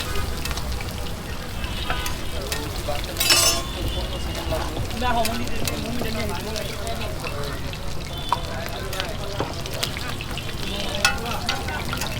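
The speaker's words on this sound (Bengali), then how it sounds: "এই তেলে লুচি ভাজেন" Luchi, puffed flatbread, frying in oil at a street food stall, a steady close sizzle with occasional metal and glass clinks under background chatter.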